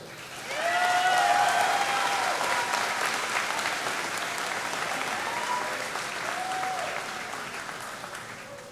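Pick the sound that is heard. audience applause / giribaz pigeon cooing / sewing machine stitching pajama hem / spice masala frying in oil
audience applause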